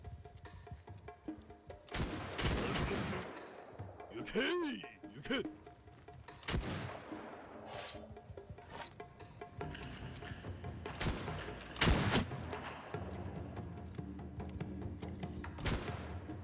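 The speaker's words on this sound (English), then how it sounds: "Just want to give my gunners a good line of fire." Musket gunners firing volleys in the samurai strategy game Shokuho, with several sharp booming shots spread across the scene amid battle noise.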